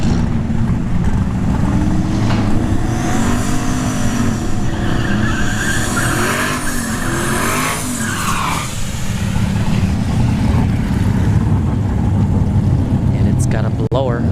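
A blown Chevrolet S10 roars loudly at a drag strip, engine howling and climbing through gears alongside another racing engine, with tire noise and a commentator talking over it.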